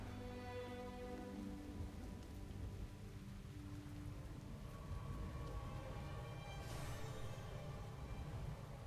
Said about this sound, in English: Oh man, it's raining.